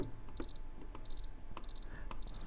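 A sewing machine gives a repeated high electronic beep as its stitch width is pushed past the maximum, four short bursts of rapid beeps in a row, close and clear over faint room noise with no talk.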